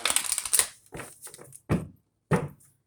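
Tarot cards being shuffled for a Virgo reading: a run of quick papery riffles and flutters at the start, then a few separate louder card slaps with pauses between, close by.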